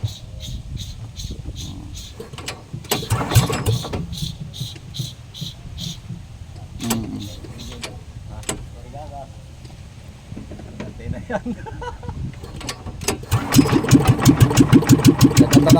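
A small six-year-old Honda boat engine idles and revs unevenly, then settles into a steady rapid chugging, with people talking nearby over the engine noise.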